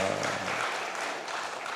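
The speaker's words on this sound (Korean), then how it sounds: "하나님께 영광의 박수 올립니다." Congregation clapping in a church during a Korean sermon, a brief burst of dense applause that starts full and then thins and fades, with faint tonal music underneath at the start and no speech.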